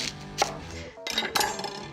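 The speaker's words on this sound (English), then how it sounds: "we will chop our onion" An onion being chopped on a board: a few quick knife strikes, one early and a denser cluster near the end, with a brief pause between.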